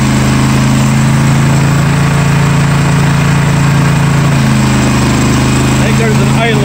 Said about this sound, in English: I think there's an idler pulley going bad.